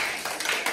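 A small group applauds for Irmak, a young child finishing a tough obstacle course, with brief, light, scattered clapping that stays close and fairly soft.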